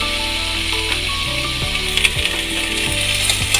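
Garlic and green chillies fry in hot oil on a medium gas flame, a loud, steady close sizzle running throughout with faint clicks of a utensil over it and no voices.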